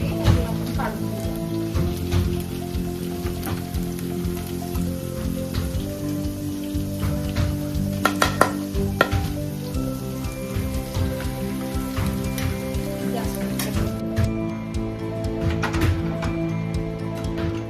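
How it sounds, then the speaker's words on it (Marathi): Chicken biryani ingredients fry in onion-flavored oil with a steady crackling sizzle that runs throughout, under background music. "पण तळून घ्यायची अशी कांद्याच्याच तेलामध्ये"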